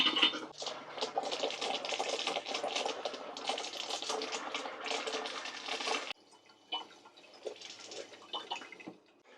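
A faucet in a Tiffin Wayfarer RV sputters and then runs in a steady hissing stream during winterization for several seconds, cuts off abruptly, and follows with fainter intermittent spurts.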